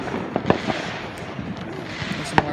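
Fourth of July fireworks pop and crackle at some distance in scattered sharp bangs, with a louder report near the end. A quiet voice speaks beneath the noise.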